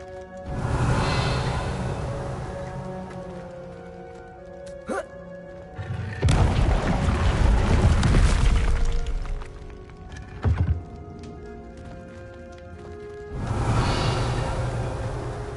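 Incendio fire spell cast in Hogwarts Legacy, a burst of flame whooshing loudly for a couple of seconds, repeated three times with quieter game ambience between.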